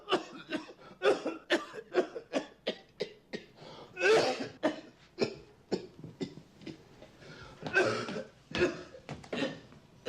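A man coughs repeatedly in a room, a long series of harsh, close coughs and throat clearing in irregular bursts, with no speech between them.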